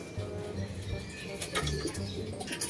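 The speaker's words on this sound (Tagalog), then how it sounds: "So, check natin yung ibon." Pigeon cooing in a low, soft rhythm close by, repeated low calls over steady background noise, with a faint voice in the mix.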